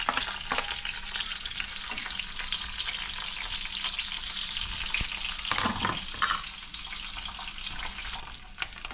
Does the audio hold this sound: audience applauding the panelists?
no